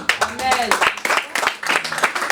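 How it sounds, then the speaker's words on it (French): A church congregation at a seminar claps and acclaims, scattered applause mixed with shouting voices and talk, moderately loud and uneven throughout. "on va acclamer pour la parole de Dieu"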